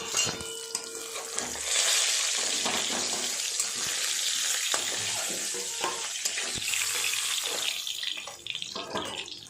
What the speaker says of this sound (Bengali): একইভাবে এই মাছ দুটো ভেজে নেব।